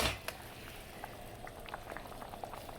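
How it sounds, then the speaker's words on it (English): Chicken tortilla soup thickening as it simmers in a pot, giving a steady, quiet bubbling with small irregular pops and plops throughout. "my soup has been cooking down now for about 15 minutes"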